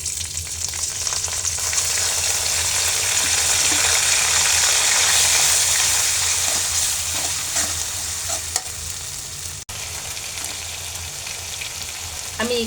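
Ground ginger, onion and green chili fry steadily in hot oil for a hilsa and pumpkin curry, a loud continuous sizzle with stirring and scraping throughout, no voices.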